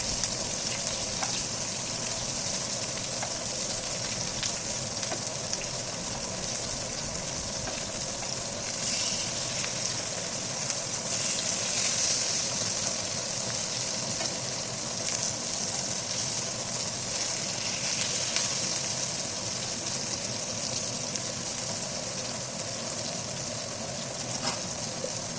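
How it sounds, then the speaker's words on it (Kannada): Crispy fish frying in hot oil over a medium flame, a steady soft hiss and fine crackle that runs evenly throughout at moderate distance with no voices. "ಇದನ್ನು ಮೀಡಿಯಮ್ ಫ್ಲೇಮಲ್ಲೇ ಫ್ರೈ ಮಾಡ್ಕೋಬೇಕು"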